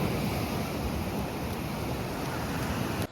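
Black Sea surf on the beach at Sanzhiika, a steady broad wash of waves with wind buffeting the microphone throughout, fairly loud and continuous.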